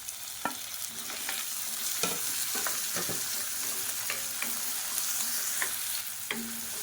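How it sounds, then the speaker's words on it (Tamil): Onion and tomato fry in a pan for sambar, giving a steady soft sizzle broken by repeated clicks and scrapes of a spoon stirring, with no voices. "இப்போ வெங்காயம் நல்லா வதங்கிடுச்சு. இப்போ இதில் மீடியம் சைஸாக ஒரு தக்காளி சேர்த்துக்கலாம்."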